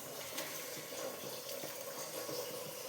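Water streams out of a pot of cooked rice as it is drained, a steady, close rushing flow that holds at an even level throughout, alone with no talking.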